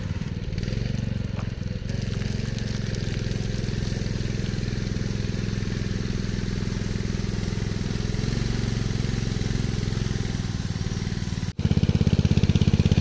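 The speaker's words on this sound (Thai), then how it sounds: "เร่งเครื่องนะครับ" A motorcycle engine, apparently a Big Gun model, runs with a steady, loud low rumble close by, holding a constant throttle; near the end a brief cut is followed by a slightly rougher, louder burst of revving.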